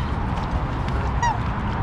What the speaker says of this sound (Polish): jest mnóstwo gęsi